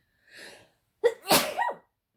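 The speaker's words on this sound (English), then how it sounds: "I think I'm going to sneeze" A single sharp sneeze, close and loud, preceded by a brief breathy intake.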